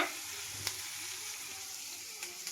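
An egg fries in a pan with an even, continuous sizzle and hiss, fairly quiet and close, with a couple of faint clicks on top.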